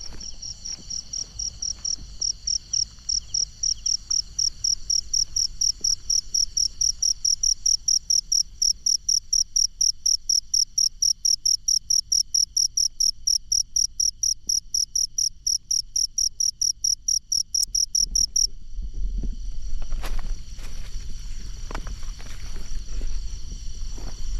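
Male crickets call for mates in a Thai forest at night, a loud, fast, regular high chirping pulse close by that stops near the end, leaving faint rustling and background noise.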